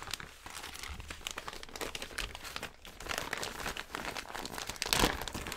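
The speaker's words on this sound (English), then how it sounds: "Oh, it's a nice giant Ziploc bag." A giant Ziploc plastic bag crinkles and crunches continuously as it is handled up close, with busy rustling throughout and a sharper burst of crackling near the end.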